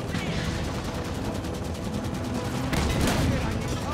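A gunner firing a vehicle-mounted gun in the video game Halo 5: Guardians, a rapid, steady stream of automatic shots with a louder burst late on and voices faint underneath.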